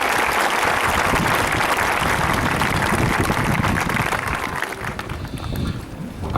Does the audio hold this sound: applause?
yes